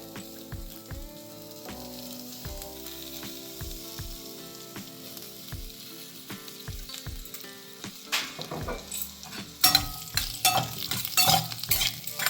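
Ground masala paste for a Malvani fresh cashew curry roasts in oil in a pan with a steady sizzle, a spoon scraping and stirring in repeated strokes that grow busier and louder toward the end.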